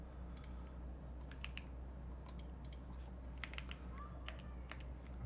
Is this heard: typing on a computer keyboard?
yes